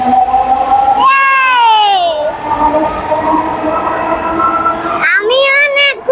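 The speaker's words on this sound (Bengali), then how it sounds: "এই যে ট্রেন চলে গেল" A train rumbles past near Dhaka University, loud and continuous, while voices talk over it.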